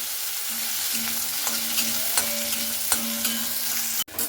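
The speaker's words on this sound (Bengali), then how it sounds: "এখানে একটু নাড়াচাড়া করে নিলাম আলুটাকে।" Cut, washed potatoes fry in a pan and are stirred: a constant crackling sizzle with light, periodic scrapes, heard up close, ending in a brief sharp clatter.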